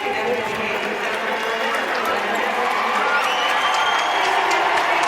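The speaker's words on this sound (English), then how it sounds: "she gets cheers from the crowd" Arena crowd at a women's college basketball SEC tournament semifinal cheering steadily for a South Carolina player heading to the bench, with a commentator talking over the noise.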